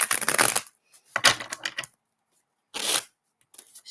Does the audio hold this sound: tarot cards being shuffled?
yes